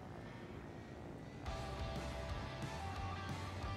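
Attack helicopter engine in a video game, a steady droning whir that swells louder and fuller partway through as the craft climbs, with a low rhythmic rotor throb underneath.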